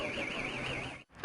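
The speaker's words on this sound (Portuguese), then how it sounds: "O alarme dispara." A car alarm sounds as firefighters and a locksmith force open a parked car in central Belo Horizonte, a steady wavering electronic tone that fills the clip, loud and continuous, then cuts out briefly before resuming.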